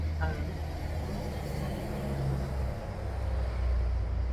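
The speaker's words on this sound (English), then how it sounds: "Wow, it's really busy on the street right now." Busy street traffic with trucks passing: a steady low rumble of engines and road noise fills the background, swelling slightly as heavy vehicles go by, while a person talks over it.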